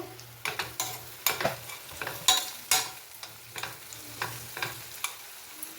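Masala spices roast in a pan for a hotel-style egg dum biryani, with repeated scraping stirs and a soft sizzle in an uneven rhythm.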